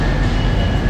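A Northern train at a platform in Manchester Piccadilly station, a loud close rumble with a steady high whine, brief and continuous with no talk.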